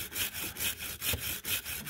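Stainless steel wire brush scrubbing metal, rapid back-and-forth rasping strokes in an even rhythm, close and harsh with no talk.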